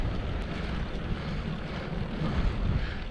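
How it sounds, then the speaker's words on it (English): Steady, loud wind gusting around 30 to 35 near Gulargambone, New South Wales, buffets a microphone, a dense roaring rush with small swells in strength and no voices. "So I'd estimate wind gusts to be 30, 35."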